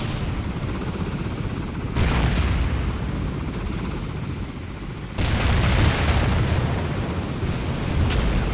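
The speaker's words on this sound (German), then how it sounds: "Ich glaub, der feindliche Heli ist immer noch da." Continuous helicopter rotor roar in the video game Battlefield 1942 Desert Combat with two sudden loud bursts, like nearby blasts, swelling the noise before it settles back into the steady drone.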